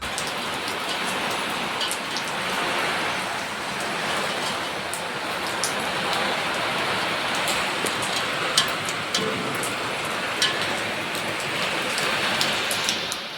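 Steady, heavy rain with strong wind pours down continuously at night, with a broad hiss and scattered drops pattering close by; no voices.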